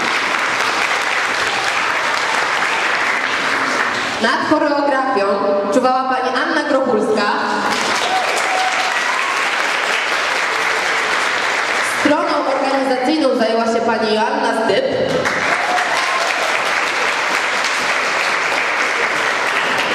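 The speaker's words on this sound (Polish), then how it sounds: "Również wielkie brawa." An audience applauds steadily after a children's stage play of the Snow Queen fairy tale. The clapping runs loud and unbroken throughout while an announcer speaks over it.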